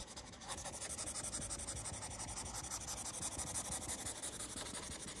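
A faint, continuous scratchy rubbing as a porous-tipped stylus drags across the paper-like screen protector of a BOOX Note Air3 C e-reader tablet in steady strokes.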